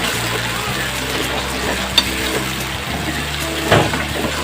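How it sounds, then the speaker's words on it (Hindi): Ginger garlic paste fries in a pan for chicken biryani, a steady loud sizzle under scraping stirs and a couple of sharp clinks, with no talk. "इसमें अदरक लहसुन का पेस्ट डाल देंगे, अच्छे से मिक्स करना है।"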